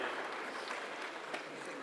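An audience at a school prize-giving day applauds a speaker: a steady, dense patter of clapping from a crowd that holds at an even level.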